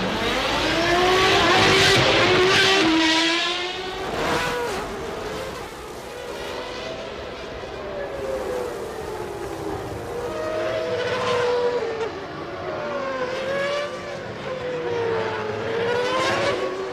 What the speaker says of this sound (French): Les 24 voitures sont en position, Prost en pole et Senna deuxième